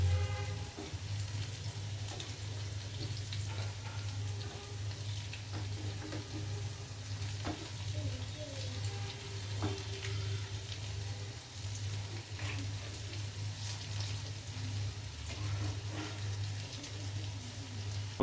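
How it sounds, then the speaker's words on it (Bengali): Cabbage and lentil pakoras fry in hot oil with a soft, continuous sizzle and scattered light pops and crackles, heard quietly over a steady low electrical hum. "অবশেষে আমাদের ভাজা কমপ্লিট হয়েছে, আরও ভাজতেছে"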